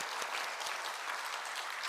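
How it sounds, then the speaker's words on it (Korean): Congregation in a church sanctuary applauding the praise team, a dense, steady wash of many hands clapping close by for the whole stretch, with no talk over it. "우리 찬양팀에게도 감사의 박수를."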